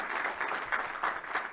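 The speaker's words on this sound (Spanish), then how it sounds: "nuevamente brindémosle un caluroso y fraterno aplauso a Gabriel." An audience gives a brief round of applause to a speaker named Gabriel at the end of a talk, the clapping soft and somewhat distant, lasting little more than a second.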